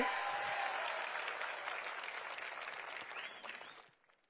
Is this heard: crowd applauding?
yes